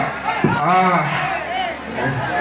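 A bull at an Alanganallur jallikattu event gives a short, drawn-out moo that rises above the crowd din, with an announcer's voice in the mix.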